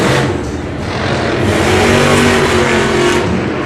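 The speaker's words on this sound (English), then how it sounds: "we are halfway through now as Cynthia Gauthier makes her first race of the year against Kevin Crocker and El Toro Loco" Monster trucks race side by side at a Monster Jam event in St. Louis, their engines roaring loud and continuous in a big arena.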